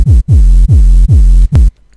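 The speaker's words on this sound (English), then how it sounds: "At first, I have here a very heavy sub bass." A very heavy sub bass layer for a machine gun bass, loud and close, sounding as five booming hits whose pitch sweeps downward with each hit, the last one short, then silence.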